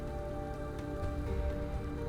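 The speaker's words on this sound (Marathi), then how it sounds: "आणि एकतर पाऊस पडतोय" Steady rain falls during a cold motorcycle ride on the high mountain road from Leh to Manali, a continuous broadband hiss with a low rumble underneath, no voices.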